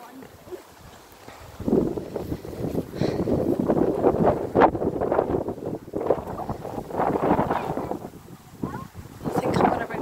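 Gusty wind buffets the microphone outdoors on a cold, fresh autumn day in the English countryside, rising and falling in strong low rumbling surges that dominate throughout.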